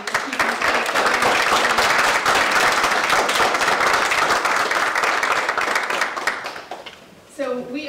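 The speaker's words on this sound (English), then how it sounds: "big round of applause for Jack Buckley for keeping us going." Audience applause at a nonprofit's harbor event, dense sustained clapping from a crowd for about seven seconds before fading, then a voice begins speaking.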